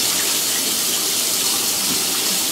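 Water running steadily into a tub for a baby's first bath, a continuous close hiss and splash with no talking over it.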